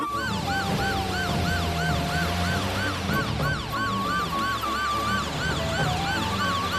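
Continuous wailing ambulance siren, loud and close, its rising and falling tone repeating steadily over a low vehicle rumble, with no voices.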